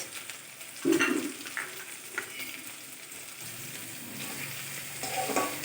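Chopped onion dropped into hot oil in a pan beside garlic and ginger, a sudden close burst of sizzling that settles into steady frying with occasional stirring scrapes, no voices.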